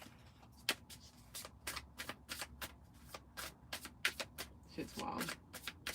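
Tarot cards are shuffled by hand in a rapid series of crisp riffling snaps and taps, close and fairly quiet, with a brief spoken remark partway through.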